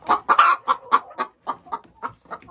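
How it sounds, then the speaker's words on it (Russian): A laying hen of the Belarusian breed clucks close by as it heads to nest, in a quick series of short, throaty notes that gradually soften, with no other sounds around. "Вот, вот пошла белоруска туда нестись."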